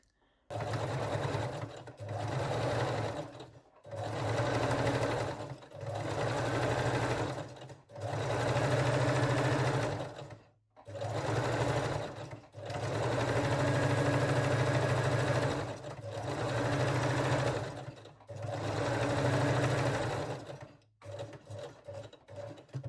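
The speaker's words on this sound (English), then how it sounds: "sew it and gently stretch the elastic while sewing" A sewing machine stitches fold-over elastic onto a cup-based lingerie bralette, running in steady bursts of a few seconds each with brief pauses between, close and fairly loud, ending in a few short stuttering runs.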